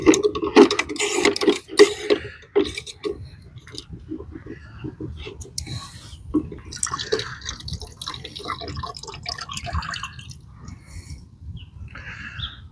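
Water splashes and drips steadily into a basin while cleaning black powder fouling from a muzzleloading rifle, with intermittent trickling and small clinks, mostly alone at moderate loudness.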